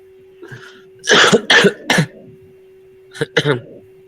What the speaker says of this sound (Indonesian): Minta maaf karena masih batuk.